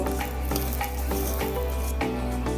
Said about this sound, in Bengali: এই আদা বাটাটাকে এবারে চালের সঙ্গে ভালো করে মিশিয়ে কিছুক্ষণ সময়, খুব বেশি না অল্প সময় ভেজে নেব